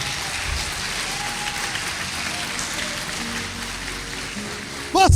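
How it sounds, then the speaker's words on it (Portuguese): Applause from a church congregation during a service, a steady broadband patter of many hands clapping throughout, ending with a brief louder burst. "Vocês bateram palmas"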